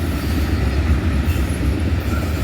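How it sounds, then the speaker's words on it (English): A freight train of grain hopper cars, some empty and some loaded, rolls steadily past close by with a continuous low rumble and wheel noise, no talk over it. "Those look like empty grainers there. That one's loaded, that one's loaded."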